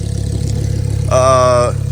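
A Lamborghini engine fitted with an exhaust valve controller idles with a steady low rumble, close and loud, with a brief rise in pitch partway through. A voice is heard over it.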